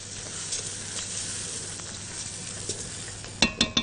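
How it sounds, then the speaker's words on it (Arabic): Rice sizzles steadily in a pan with onion and garlic, cumin and chili while being stirred for Alexandrian koshary; near, constant frying hiss, ending with three sharp spoon clinks against the pot. "وابدا ان انا اشوح الرز بتاعنا في البصلايه والثوم اللي احنا حطيناها"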